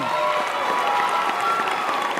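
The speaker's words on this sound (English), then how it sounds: "Come on, keep the applause going." Audience applause after a live music show performance, a dense clapping wash with cheering, voices mixed in throughout.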